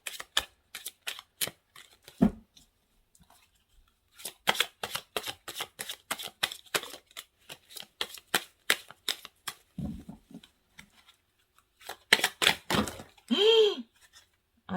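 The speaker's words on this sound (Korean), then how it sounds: "자, 그러면 여러분을 위한 조언의 카드를 마지막으로 뽑아보도록 할게요." Tarot cards being shuffled and drawn, with repeated quick riffling and flicking bursts up close, brief pauses between handfuls, and a short swooping sound near the end.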